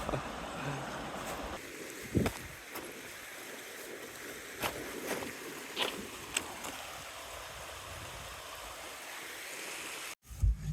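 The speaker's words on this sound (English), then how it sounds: "As windy as anything." Strong wind blowing steadily outdoors at a remote spot with no phone signal, a constant broadband rush with a few gusty buffets and brief bumps, fairly close to the microphone.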